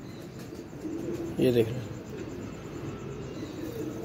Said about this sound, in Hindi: खुश्क नलियों का कबूतर है, नीले पंजों का कबूतर है।